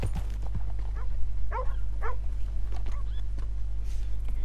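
Two dogs in Red Dead Redemption 2 Online barking a few short yips over a loud steady low hum, the barks clustered and fairly close, with no talking over them.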